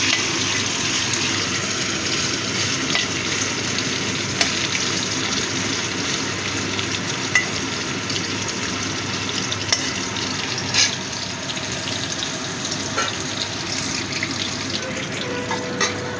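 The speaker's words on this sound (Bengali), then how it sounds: "আবারও আমি বাকি চিংড়ি মাছগুলো" Shrimp fry in hot oil with a dense, even, continuous sizzle that holds steady and close throughout, with faint small clatters now and then.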